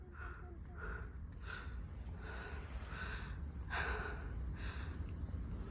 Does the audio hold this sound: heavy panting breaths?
yes